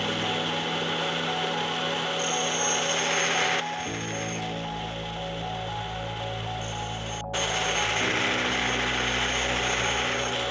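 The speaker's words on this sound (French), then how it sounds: "Monsieur Zamblé travaille dans cette scierie en tant qu'opérateur d'une scie circulaire à table." Table circular saw cutting wood in a sawmill, a steady loud mechanical whine and hum that dips for a few seconds mid-cut and then returns at full strength, with no talking.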